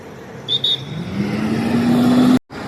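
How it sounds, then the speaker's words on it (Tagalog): A truck converted into a bus drives by in downtown Toronto traffic, its engine rising in pitch as it accelerates, loud and near, with a brief squeal early on before the sound cuts off abruptly. "Truck converted to bus."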